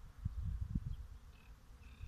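A few honeybees buzz low and close at a water source in spring, their drone rising and falling in uneven swells, with faint high chirps in the background.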